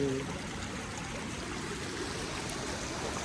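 Steady water flowing and trickling continuously into a temple tank, a dense broadband rush at moderate level with no voices.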